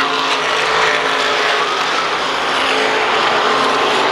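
Race cars roaring around the track at Heartland Park, a loud dense wash of engine noise sustained throughout with a slight swell, close and unbroken, no voices heard.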